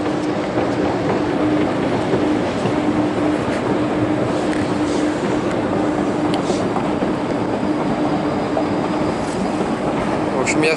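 Steady loud rumble of a Moscow Metro train in motion on the Moskvoretskaya line, continuous rail noise with faint rattles and a thin hum throughout.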